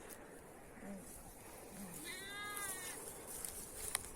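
Sheep and lambs on a village farm bleat faintly in short calls, one clearer wavering bleat standing out, over steady outdoor background noise.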